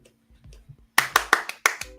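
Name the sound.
hand clapping applause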